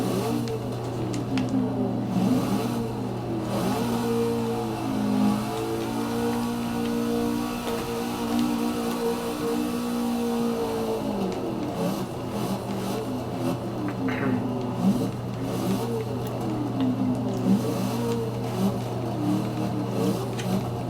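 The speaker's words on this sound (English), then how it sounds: "Give the car a few revs first." A Dodge Charger drift build in Forza 6 idles with a steady, deep rumble and rises into a few drawn-out revs before settling back, close and continuous with no talking.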